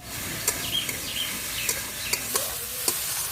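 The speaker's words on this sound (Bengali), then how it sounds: "আমি পেঁয়াজগুলো কিছুটা সময় ভেজে নিয়েছি পেস্ট করা মশলাগুলো আমি দিয়ে দিচ্ছি" Spice paste of ginger, cumin and dried chilli is stirred into frying onions in a pan over a wood-fired clay stove, giving a steady sizzle broken by several sharp scrapes of the utensil, close by and with no talking.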